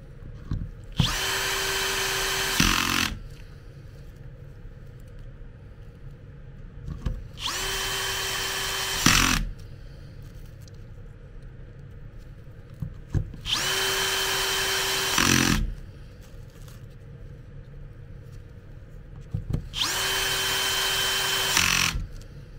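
Power screwdriver driving bolts into a wheelchair gearbox housing, four separate whirring bursts of about two seconds each with steady motor pitch, close and loud, separated by quiet pauses.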